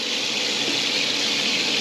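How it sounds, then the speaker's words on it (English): Water gushing steadily from the outlet of a Camplux Nano 3 Pro portable water heater, a loud continuous hiss of running flow close by with no talking. "Julie, put your hand underneath here and fill that water."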